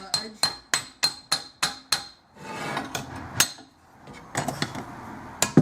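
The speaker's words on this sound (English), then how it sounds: "I'll just get my panel hammer." A panel hammer beats a sheet-metal edge on a Hunter stove restoration: a quick run of sharp, ringing strikes, then a pause filled with scraping and handling noise, and a few scattered taps at the end.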